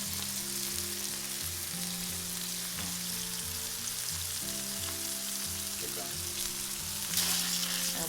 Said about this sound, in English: We're gonna add our bacon.